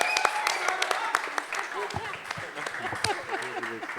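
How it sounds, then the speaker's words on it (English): An audience applauds at the Netflix India trailer launch for Dhamaka, with steady crowd clapping and a few sharper claps running beneath a host speaking over a microphone. "let's have a huge round of applause again"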